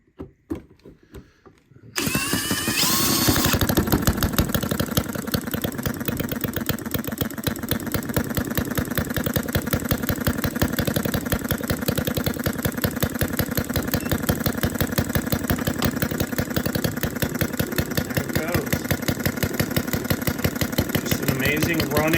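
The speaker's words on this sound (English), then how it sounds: "Amazing running, great detailed engine brought to us from Stirlingkit." Fairbanks Model Z hit-and-miss model engine, a detailed kit engine, started with a drill and then running steadily close by, a loud continuous rapid mechanical chuffing and clatter that carries on without letup after a brief quieter start.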